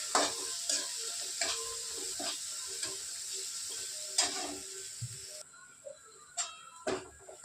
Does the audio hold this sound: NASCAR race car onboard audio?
no